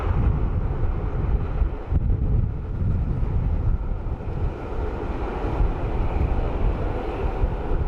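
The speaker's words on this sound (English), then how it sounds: "Let's see if we can catch our 330 from Aer Lingus" An Aer Lingus Airbus A330 at Dublin Airport makes a broad, steady engine roar heard from a distance, blended with gusty wind buffeting the microphone.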